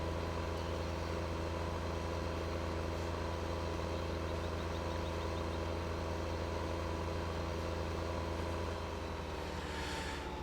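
Tractor engine from Farming Simulator 15 drones at a steady low idle, a continuous deep rumble with constant harmonics, moderately loud and unbroken throughout, with no talk over it.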